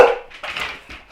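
A dog lets out a couple of short, sharp barks nearby at what sounds to it like door knocking, the sounds abrupt and separated by brief pauses.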